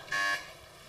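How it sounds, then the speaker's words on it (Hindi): A game show buzzer sounds once as a short, bright electronic tone lasting about a quarter second, pressed during a Ramzan quiz competition, then fades into room noise. "आप लोग बजर बजा सकते हैं इस पर।"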